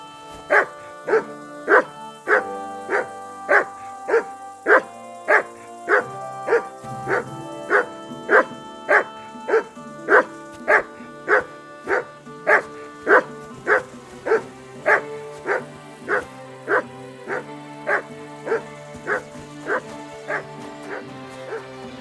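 A dog in Kingdom Come Deliverance II barks on command, a long run of sharp, evenly spaced barks close by and loud, over a soft ambient music bed.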